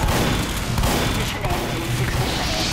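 Gunfire from the shotgun in the video game Team Fortress 2 makes a dense, loud burst of shots and booms that fills the whole moment without a pause.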